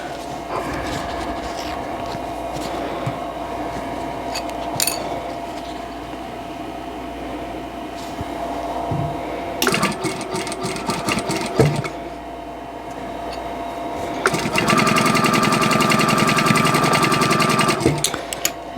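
A sewing machine joining quilt block pieces with a quarter-inch seam, starting in short runs and then whirring in steadier longer stretches, close and moderately loud over a constant background hum.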